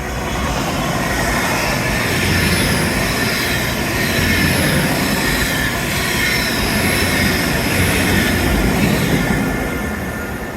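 A train rolls past at close range in Teignmouth, a loud sustained rumble of wheels on track with faint metallic squeals, steady throughout without pause.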